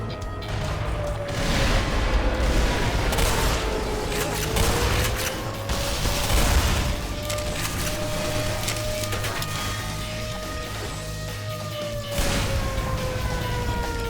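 In the video game Black Mesa, sustained bombardment rumbles without letup, dense booms and blasts layered with a wavering siren-like tone, loud and continuous throughout.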